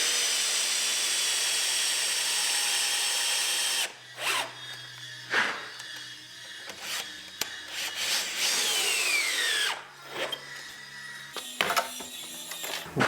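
A power drill drives a greased screw into an oak casement window frame, giving several short bursts of whirring and ratcheting with loud clicks and pauses between them, close by and with no talking.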